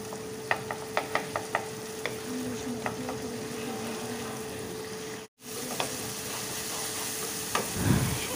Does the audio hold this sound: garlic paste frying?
yes